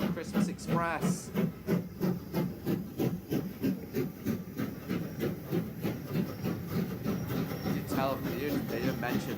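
Steam locomotives Mayflower and Duke of Gloucester double head the Bath and Bristol Christmas Express, their rapid rhythmic exhaust beats chuffing steadily over faint hiss, moderately loud and continuous.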